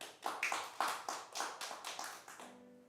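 A small improv theatre audience claps in a brief, rhythmic burst of about a dozen distinct claps, fairly close, ending abruptly.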